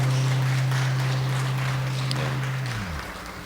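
Church congregation applauding during a worship service, a dense, steady patter of many hands over a held low organ-like note that slides down and fades near the end.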